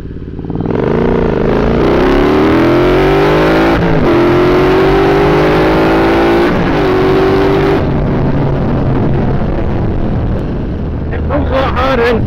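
A Triumph Bobber motorcycle accelerates hard in fourth gear. Its loud engine drone climbs steadily in pitch, shifts up, then carries on under wind noise for several seconds, recorded close on the bike.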